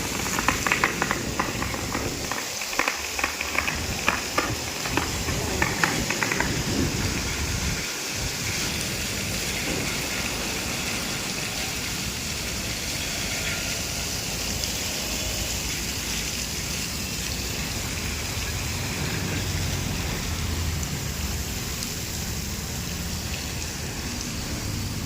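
High-pressure water from a fire brigade hose driven by a 7.5 pump, a loud, continuous hissing spray with rain-like pattering, steady throughout with some rougher bursts early on.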